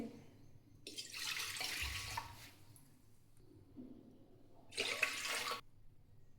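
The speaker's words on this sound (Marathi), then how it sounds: "3 ग्लास पाणी टाकले." Water poured into a pressure cooker over soaked rajma gushes in two distinct bursts, the second shorter, with quiet gaps around them.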